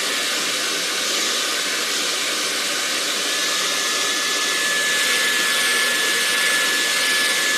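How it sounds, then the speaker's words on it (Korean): A hair dryer blowing on wet watercolor paint, a steady loud airy whoosh with a faint motor whine, held continuously and close with no speech. "드라이기를 이제 사용해서 빠른 효과를 볼 수가 있죠."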